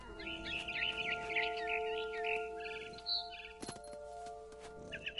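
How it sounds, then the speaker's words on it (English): Barn swallow chirping in the game What Remains of Edith Finch, a run of bright, quick twittering calls in the opening seconds and again near the end, over a steady tonal game ambience. "heard chirping outside my window."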